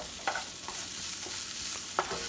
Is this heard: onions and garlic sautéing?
yes